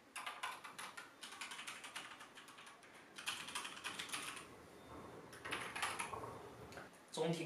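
Typing on Corsair K65 RGB and K100 RGB mechanical keyboards gives bursts of rapid, close key clatter in uneven runs separated by short pauses, quiet overall with no speech.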